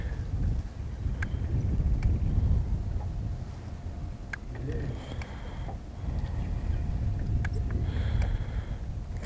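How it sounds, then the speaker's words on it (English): Gusty wind blows across an open riverbank on a cold December day, a rumbling low roar buffeting the microphone in uneven surges, with faint clicks and distant chirps over it. "That wind is sharp today."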